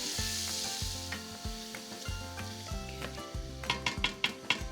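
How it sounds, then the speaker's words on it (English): Finely chopped onions hit hot oil in a pan, giving a steady close sizzle with repeated scraping stir strokes and clinks of a utensil against the pan, growing busier toward the end. "So I'm just gonna add my onions to my hot oil, and I've finely chopped the onion."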